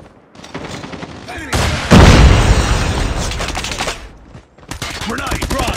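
A grenade blast in a Call of Duty deathmatch erupts as a loud, booming burst of noise, followed by rattling gunfire bursts and crackling debris, all close and dense.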